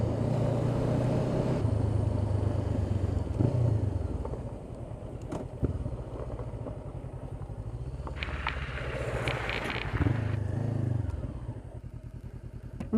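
Honda CB500X motorcycle riding on a dirt road, steady engine drone with rattles and thumps from the rough surface, close and continuous, easing slightly toward the end.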